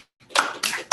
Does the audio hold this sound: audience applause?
yes